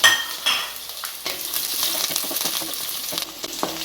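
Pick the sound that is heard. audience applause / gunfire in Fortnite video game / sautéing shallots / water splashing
sautéing shallots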